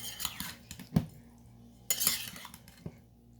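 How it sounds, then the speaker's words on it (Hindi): A spoon clinks lightly against a bowl while fried white chana chaat is gently mixed with tamarind chutney, giving a few close, scattered taps and scrapes with quiet gaps between them. "और यहाँ डालेंगे हम थोड़ी सी, हल्का सा मिक्स करती हूँ इनको।"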